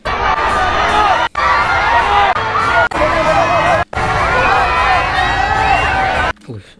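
Roar of a large crowd of roughly 4000 people gathered outdoors, loud and continuous with shouting and cheering, broken by a few brief cuts, with a voice talking over it.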